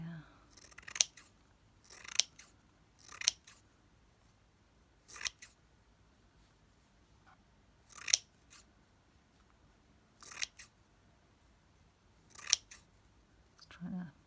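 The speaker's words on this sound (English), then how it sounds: "here we can just cut ourselves again some little squares." Scissors cutting small squares from scrap fabric in short, separate crisp snips, about ten across the stretch, with quiet pauses between them.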